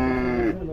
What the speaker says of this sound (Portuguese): A vaca tá brava aqui, ó.